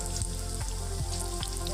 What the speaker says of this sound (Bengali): এমনি করে সব পকোড়িগুলোকে আমি ভেজে নেব